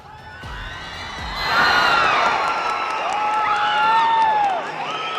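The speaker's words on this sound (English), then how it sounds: "The crowd enjoying the moment, all of them applauding it." A crowd at a Yuva Kabaddi Series match between Palani Tuskers and Karpagam Raiders bursts into loud cheering, shouting and whoops that swell after a short pause and carry on, with some clapping mixed in.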